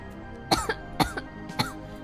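A person coughs and chokes in three sharp, close bursts spaced about half a second apart, with throat-clearing rasps between them and no talking.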